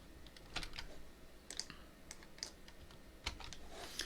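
Quiet, close-up typing on a computer keyboard, with irregular bursts of sharp key clicks over a soft background hiss.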